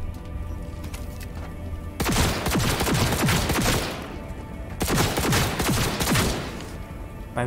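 Gunfire in the video game Cyberpunk 2077: two loud bursts of rapid shots, one from about 2 to 4 seconds and another from about 5 to 7.5 seconds, separated by a quieter gap with no talk.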